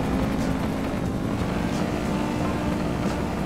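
In GTA 5, an Osiris car drives at full throttle, its engine a steady, loud drone with no pauses or talk.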